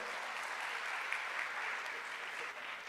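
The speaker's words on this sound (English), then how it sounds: "So Dr. G.V. Rao Garu, I think we need a good applause from the audience" Steady applause from an audience at a medical college dedication ceremony, many hands clapping at a constant level with no break for the whole span.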